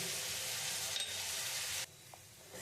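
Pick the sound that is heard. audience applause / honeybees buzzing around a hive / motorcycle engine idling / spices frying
spices frying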